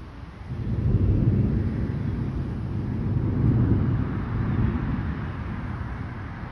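Low, steady rumbling thunder rolls through a bad storm with fast-moving clouds, a broad continuous roar that swells and fades over several seconds with wind noise on the microphone and no talking.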